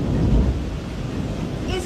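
Thunder rumbles low and heavy under the steady hiss of falling rain, a brief close burst of stormy weather.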